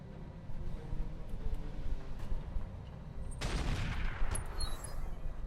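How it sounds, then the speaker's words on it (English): Heat artillery fire in the video game Roguetech, a faint rumbling barrage with a sharper burst of impacts partway through, continuing as distant crackling fire. "And that is some proper heat artillery."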